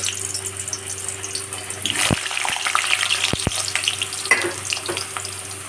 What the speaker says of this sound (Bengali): এবার আলুগুলো দিয়ে আমি লাল লাল করে ভেজে নেব